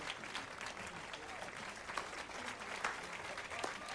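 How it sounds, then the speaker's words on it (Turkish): Crowd applause inside The Witcher 3: Wild Hunt, a continuous, fairly quiet wash of clapping from a gathered audience, sustained without a break. "Biz de alkışlıyoruz. Alkışlamaya bak."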